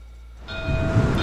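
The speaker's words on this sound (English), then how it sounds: "See if we can get rid of this train." A train in a WWII strategy video game rumbles in at about half a second with a steady whistle-like tone held over a low rolling rumble that grows louder toward the end.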